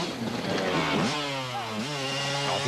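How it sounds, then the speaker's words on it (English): A KTM enduro motorcycle races past at an off-road event, its engine note rising and falling through revs and gear changes, loud and fairly close with no talk. "he is motoring on that KTM"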